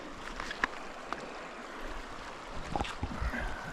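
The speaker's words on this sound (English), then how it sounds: "So you got the river flowing around the corner here," A high river flows around a corner beside a pool, making a soft, steady rushing wash with a few faint splashes and knocks, no voices.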